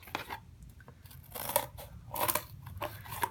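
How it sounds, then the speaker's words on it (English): Scissors cutting through a piece of cardboard up close: a few crunchy, rasping snips in quick bursts, fairly quiet with a soft background hiss. "I want to cut this piece of cardboard into 3 pieces of those sizes"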